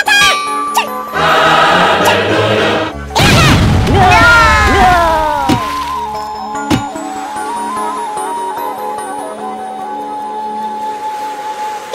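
A cartoonish air support strike in Worms on PS3, with loud booming crashes and tinkly debris bursts, followed by whistling descending tones and scattered pops that fade into a quieter stretch.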